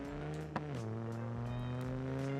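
A car engine on a dyno in the driving game BeamNG.drive, rated around 800 brake horsepower, holds a steady, even hum and then drops slightly in pitch, sounding smooth and continuous throughout.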